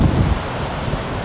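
Strong wind roars steadily against the microphone at a beach resort in Mui Ne, Vietnam, a loud rumbling gust with no other sounds.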